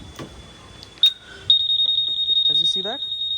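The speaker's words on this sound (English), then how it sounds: "as you see that, the alarm is ringing" Anti-theft alarm on a Yamaha Aerox scooter sounding close by, a steady high electronic tone that begins after a brief beep and then pulses in rapid repeating bursts, with a short voice heard near the end.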